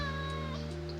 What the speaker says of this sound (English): So this is just a cat break.